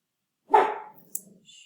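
A dog in a quiet home lets out one sharp, close bark, followed by a fainter yip a moment later.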